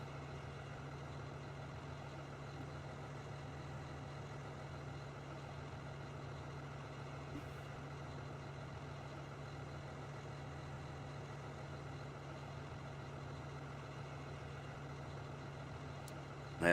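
Tractor engine in Farming Simulator 2013, a steady, unchanging mid-low drone that runs the whole time at a low, even level.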